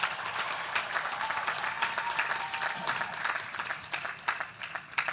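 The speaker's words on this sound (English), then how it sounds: "Let's give them a big round of applause as well." A large commencement audience applauds, a steady wash of many hands clapping with scattered cheers mixed in, moderately distant and continuous throughout.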